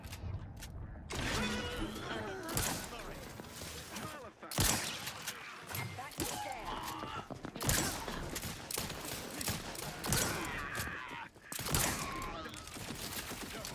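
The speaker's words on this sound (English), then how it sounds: "Why is the turret shooting me?" Rapid turret gunfire in a first-person shooter video game, dense bursts of shots crackling continuously throughout, loud and close, mixed with other game sounds and brief speech.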